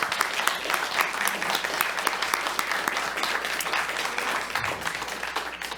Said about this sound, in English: Let's give her one last round of applause.